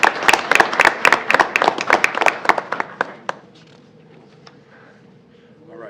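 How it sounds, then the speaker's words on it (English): Audience clapping at a school board meeting, a short burst of applause from a modest crowd that tapers off after about three seconds into near quiet. "A round of applause for them as well."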